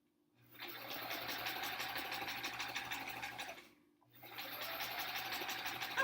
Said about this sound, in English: Gotta make sure I'm still sewing both pieces of fabric together.